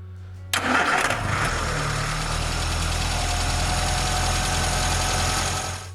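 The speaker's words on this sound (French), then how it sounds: "vous pouvez démarrer le moteur et écouter s'il n'y a pas de claquements anormaux" A car engine, being checked for abnormal valve clatter after a valve clearance adjustment, cranks and catches with a sharp start, then settles into a steady, even idle hum that continues without talk.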